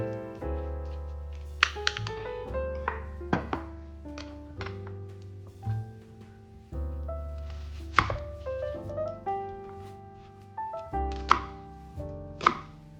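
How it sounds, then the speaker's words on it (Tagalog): Tuna is mashed into smaller pieces for tuna sisig, making repeated knocking and tapping strikes in an irregular rhythm, close and distinct, over a steady tonal background hum. "Durug-durugin lang natin ng konti yung ating tuna."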